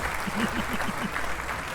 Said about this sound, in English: I just wanted an excuse to hit the clap button